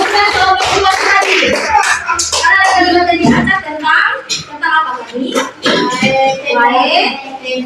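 Classroom applause for a student group, with children clapping in a busy, irregular patter while kids' voices chatter and call out over it throughout.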